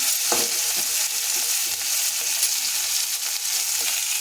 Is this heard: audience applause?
no